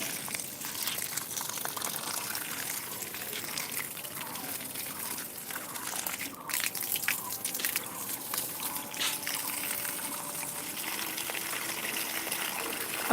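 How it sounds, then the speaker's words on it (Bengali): Water gushes and splashes continuously onto dry garden soil and plant leaves nearby, a steady spraying sound with occasional drips. "আমার গাছে পানি দেওয়ার ভিডিও বা লাইভ"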